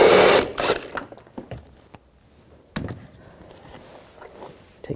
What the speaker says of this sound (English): Using a 16mm socket, take the bolt out